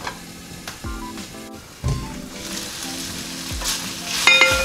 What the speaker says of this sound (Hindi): इसको लाइट से फ्राई करने के बाद हम इसको बिल्कुल स्लो आंच करके थोड़ी देर के लिए ढक देंगे